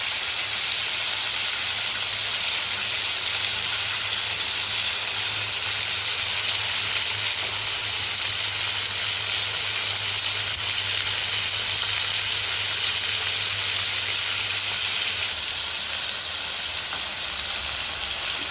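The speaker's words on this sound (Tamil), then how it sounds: "சேர்த்து தக்காளி சின்ன வெங்காயத்தை நல்லா வதக்கி எடுத்துக்கணும்" Tomatoes and small shallots sauté in a pan for tomato chutney, giving a loud, continuous close sizzle and hiss that runs evenly throughout with no voices.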